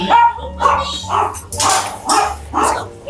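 A shelter dog barks in a steady series of five or six loud, close barks, evenly spaced with short pauses between them and little else in the background.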